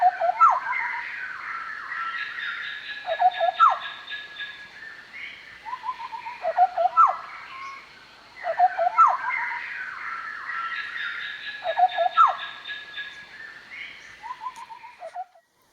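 A Large Scimitar Babbler calls in repeated phrases, a loud, clear, fluting and chattering song with several voices overlapping, coming back in bursts every few seconds over a quiet background.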